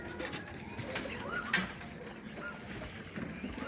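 Domestic pigeons cooing softly in a Mookie breeding loft, low murmuring coos scattered across a steady background hum with a few faint chirps and rustles, fairly quiet and continuous.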